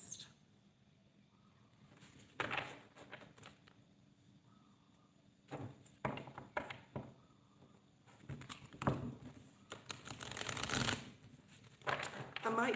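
Tarot cards being shuffled during a live reading, giving repeated bursts of papery riffling and patter that come and go, growing busier and louder toward the end, with a voice faint in the background.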